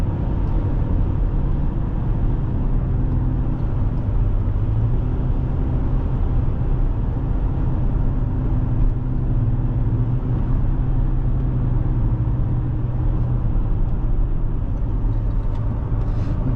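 A 2011 Lexus RX350 drives through a series of corners, heard as a continuous low road and engine rumble from inside the cabin, with no voices.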